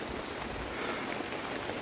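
Rain falling steadily during an uphill mountain trek to a hilltop fort, a dense even hiss of drops close around with no talk.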